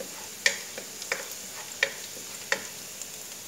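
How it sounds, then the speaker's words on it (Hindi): Food sautés in a pan for chicken lasagna: a quiet, soft sizzle broken by a handful of sharp spatula taps against the pan, spaced roughly every half second to second. "इसको हल्का सा सोते कर लेना है। ये देखिए, पांच मिनट तक इसको सोते करें।"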